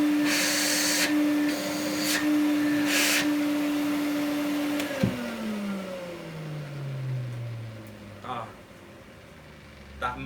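An Electrolux vacuum cleaner in good condition runs with a steady motor hum, then its pitch winds down as it switches off; brief clicks and handling noises follow near the end.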